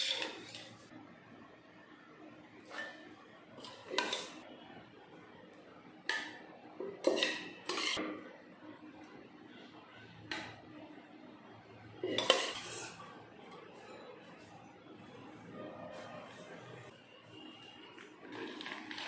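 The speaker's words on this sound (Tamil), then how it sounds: "மிக்ஸி ஜாரில் சேர்த்துருவோம்." Cooked chana dal spooned from a steel pot into a mixer jar in a home kitchen: scattered metal clinks and scrapes, soft and close, spread irregularly over about twenty seconds with no speech.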